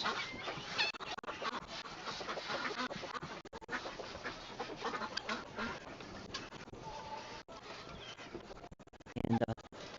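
Ducks honk and quack nearby while someone moves among them outdoors in winter during chicken feeding, the calls coming in a busy, uneven stream of close squawks with some rustling and a louder burst near the end.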